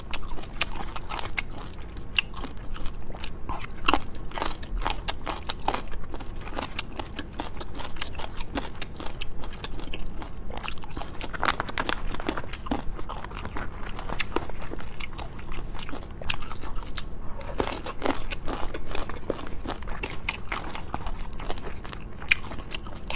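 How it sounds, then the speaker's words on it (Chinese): Close-up chewing and biting of extra spicy hot and sour chicken feet, with steady crunchy, wet mastication and frequent small crackles over continuous background noise, without talking. "我吃个特辣的酸辣雾鸡爪"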